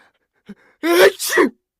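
A single loud, close sneeze in two bursts, preceded by a brief sharp inhale, then silence.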